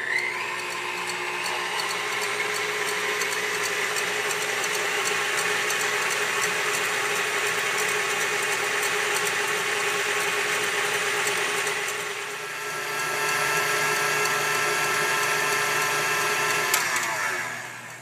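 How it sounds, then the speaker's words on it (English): Electric mixer beating egg whites with sugar for a soufflé, a steady loud whirring drone that holds nearly unchanged throughout, briefly dipping in pitch before resuming, with no talking. "we're going to keep whisking or keep beating it, but we're going to add in 1/3 cup of sugar gradually as it goes"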